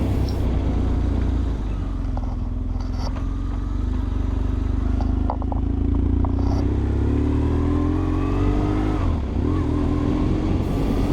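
A car driving along a village road gives a steady, close engine and road rumble throughout, with the engine note rising slightly as it picks up speed.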